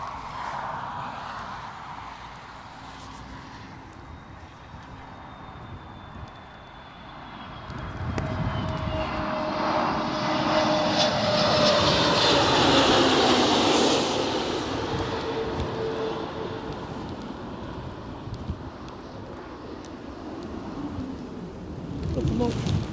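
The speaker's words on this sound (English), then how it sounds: "Oh, it's an inbound plane." An inbound airplane approaching Newcastle Airport on a snowy, gusty crosswind day: a distant engine drone swells to a loud roaring pass, then fades with wind noise, and a voice talks briefly.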